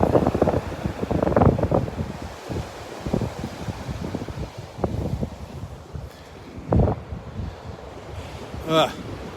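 Wind gusts across a Gulf beach at Delnor-Wiggins, roaring steadily into the microphone, with low thumps of buffeting and a soft wash of surf underneath for the whole stretch.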